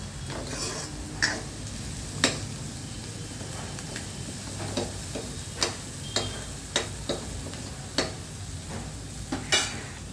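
Taro root pieces frying in a pan, a continuous soft sizzle punctuated by sharp clinks and scrapes of a utensil stirring against the metal at irregular intervals.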